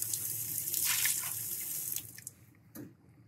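Tap water runs steadily into a sink, a broad hiss that fades out after about two seconds, followed by a brief clunk and a short gurgle near the end.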